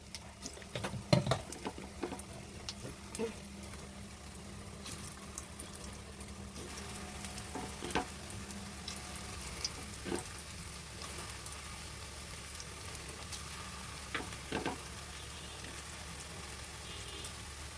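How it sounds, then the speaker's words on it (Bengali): Steady, soft sizzling of soybean food frying gently in a pan on low heat, with a few faint clinks and scrapes scattered throughout; no talking. "আঁচটা কিন্তু কমিয়েই ভাজছি, যাতে ভালো করে ভাজাটা হয়"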